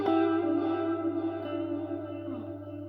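A guitar chord rings out through heavy reverb and echo from an Electro-Harmonix Canyon delay pedal, sustaining and slowly fading over a few seconds with a washy, spacious tail.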